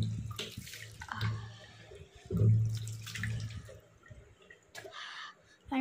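Water runs and splashes while a Meesho product is washed, a fairly close, irregular gush with drips and brief louder surges across the whole stretch, alone with no talk.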